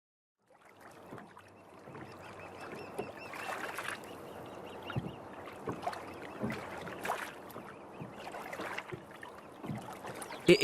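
A rowboat in an animated cartoon is oared across a river, with rhythmic splashes and creaking strokes over a low watery wash. Small knocks punctuate the steady pulls and no one talks.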